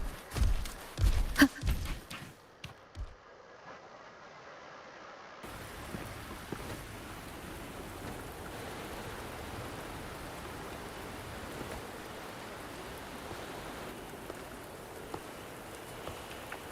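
Rain falls in the game Wuthering Waves as a steady, faint wash of patter. It follows a few seconds of louder thuds and brief near-silence, then continues evenly to the end, with no voices.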